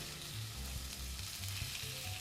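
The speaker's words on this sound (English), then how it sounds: "I love that sizzle. That sound of the sizzle." Beef strips sizzle and crackle steadily in a hot frying pan, a dense close-up frying hiss with faint low clinks underneath.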